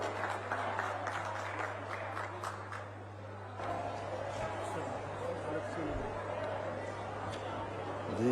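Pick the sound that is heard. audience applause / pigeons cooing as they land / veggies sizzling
audience applause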